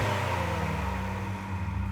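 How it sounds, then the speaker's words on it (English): A 2024 Acura TLX Type S turbo V6 in Sport Plus mode gives off a steady, loud engine drone with strong low harmonics, held throughout with no voices. "the TLX Type S sort of is a fantastic sounding turbo V6"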